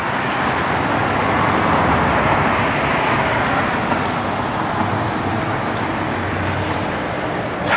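A restored 1969 Chevrolet Camaro RS with a 383 stroker V8, a lively cam and a Holley dual-feed four-barrel carburettor runs in a loud, steady, unbroken rumble with no voices.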